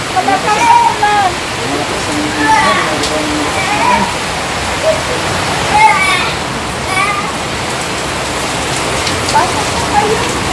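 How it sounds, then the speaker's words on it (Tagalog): Heavy rain pours down steadily, a dense continuous hiss like falling water on surfaces, close and loud, with faint voices in the background. "Malakas ang ulan."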